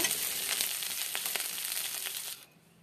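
Pomfret fish pieces fry in a pan, giving a steady close crackling sizzle with scattered pops that cuts off abruptly near the end.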